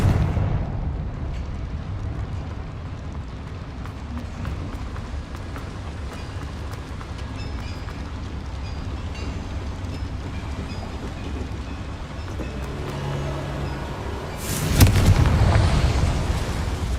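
A Confringo blasting spell bursts with a loud, sudden explosion near the end in the Hogwarts video game, breaking through a steady rumbling, clattering background that runs throughout.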